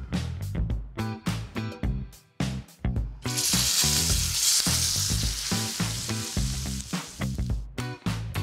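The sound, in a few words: pork tenderloin searing in a very hot pan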